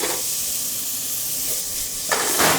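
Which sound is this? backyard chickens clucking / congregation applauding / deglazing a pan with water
deglazing a pan with water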